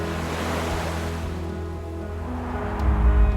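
Sea waves wash steadily onto the shoreline in Split, Croatia, a continuous low surf rumble that swells louder near the end, with some wind noise and no voices.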